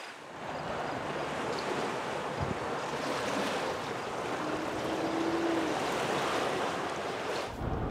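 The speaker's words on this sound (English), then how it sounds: "And wind just changed directions." Wind blows outdoors across open country, a steady rushing roar buffeting the microphone with no pauses and no one speaking.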